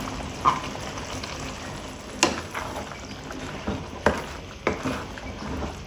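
Chickpeas and green chillies cook in a hot pan, giving a steady, close sizzle broken by several sharp clacks of stirring at irregular intervals, with no one speaking.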